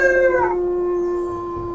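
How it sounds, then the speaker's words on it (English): Wolves in the WolfQuest video game howl in a sustained, clear tone that bends down and then holds steady, loud and close, with no talking over it. "they're howling"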